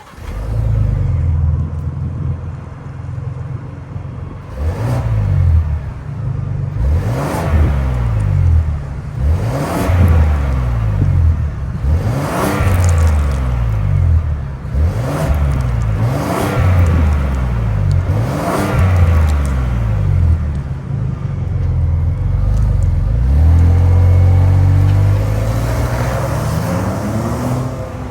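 A 2023 Ford Expedition Timberline with a high-output 3.5-liter twin-turbo EcoBoost V6 runs up close. It idles, then is revved about six or seven times in quick, even swells, settling back between revs and humming steadily at the end.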